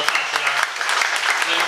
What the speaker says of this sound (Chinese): 所以，请大家再一次给我们四位候选人一点热情的掌声